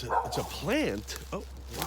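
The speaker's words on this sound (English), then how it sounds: "That's my neighbor's dog." A neighbor's dog outdoors beside a pine tree in a forest habitat gives a short whining bark with a rising and falling pitch, heard under nearby talking.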